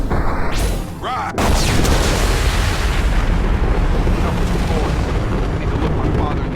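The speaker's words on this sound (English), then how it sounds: "Was that explosion supposed to be that big? That was the fucking largest explosion ever." A huge explosion in the video game Mass Effect 2 erupts as a loud, sustained roaring blast with a brief dip before a dense, rumbling wall of fire and debris that continues without letting up.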